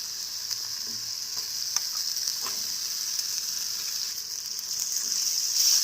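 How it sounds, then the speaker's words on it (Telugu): Onion paste fries in a pan with crab pieces for a crab curry, producing a continuous bright hiss and crackle up close, with faint stirring clicks and no voices. "ఇప్పుడైతే ఉల్లిపాయ పేస్ట్ ఉంది కదండి అది వేసుకుంటున్నానండి"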